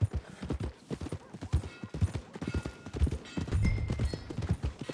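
In Red Dead Redemption 2, a horse's hooves clip-clop steadily at close range in a brisk, uneven rhythm, with no voices.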